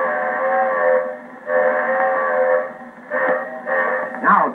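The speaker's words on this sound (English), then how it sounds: "This is the grade crossing whistle." A Lionel model train whistle sounds the grade crossing signal: two long blasts, then a short one and a final long one, loud and close with a reedy, multi-toned chord.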